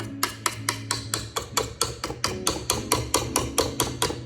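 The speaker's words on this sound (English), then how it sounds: "I'm gonna remove this whisk attachment" Stand mixer whisk attachment being worked loose, producing a rapid series of sharp metallic clanks at a steady rhythm, loud and close with no talking.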